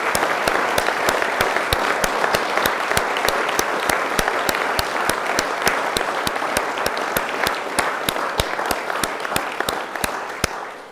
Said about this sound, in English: So let's one final round of applause for all recipients today and for